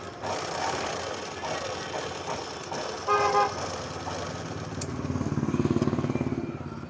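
A sewing machine stitches a dress collar, running in a steady close mechanical whir with a faster rhythmic burst of stitching near the end, with faint background voices or noise.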